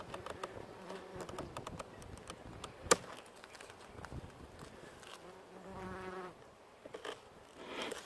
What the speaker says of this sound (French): on a une guêpe qui se promène devant l'appareil